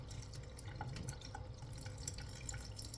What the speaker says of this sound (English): Rinsing, rinsing, rinsing,